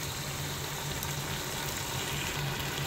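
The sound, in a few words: Kashmiri and Guntur red chilli paste roasting in pan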